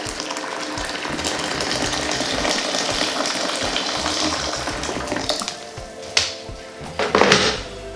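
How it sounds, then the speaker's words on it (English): Hot boiled water pours steadily into a bowl for a facial steam at home, a continuous close splashing rush that tapers off near the end with a few small knocks. "I'm just going to pour that in my bowl."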